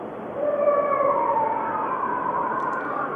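A tightly controlled, wailing howl-like vocal sustains for about three seconds, opening on a rounded 'ooh' tone with the pitch gliding down toward the end, loud and steady with no talk over it.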